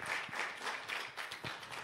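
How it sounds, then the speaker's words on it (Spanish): Church congregation applauds during a Spanish-language sermon, a soft, distant, continuous patter of many hands clapping together. "Démosle un fuerte aplauso al Señor."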